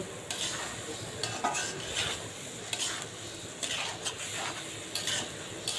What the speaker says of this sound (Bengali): চাল দিয়ে একটু নাড়াচাড়া করে